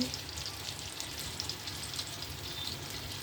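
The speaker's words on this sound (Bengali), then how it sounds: "রুই মাছ এখন ভাজি করব।" Rohu fish frying in a pan, a steady close sizzle of hot oil with light crackles and soft stirring scrapes, continuous and even throughout with no voices.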